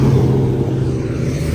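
A Lamborghini Countach engine rumbles at a car show with a deep, steady low growl throughout the short moment, close and loud, with no voices over it.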